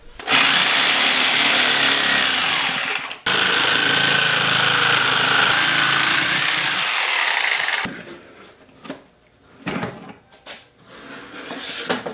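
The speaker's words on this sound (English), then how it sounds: "So, I got a Sawzall, I got some bolt cutters." A Sawzall reciprocating saw, used while prepping wheels for drag slicks, cuts loudly and steadily for about eight seconds with a brief pause near three seconds. It then gives way to scattered clanks and handling noises.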